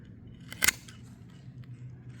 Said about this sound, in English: I'm gonna cut it right here to make a clean cut